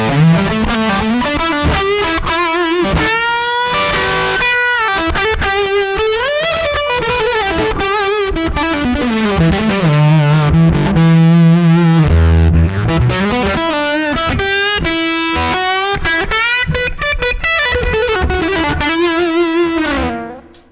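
An electric guitar played through a fuzz pedal, volume set around 2.5 and tone at 7, rings out in a loud, saturated, sustained melodic line of bending notes and chords for the full stretch, with no talking.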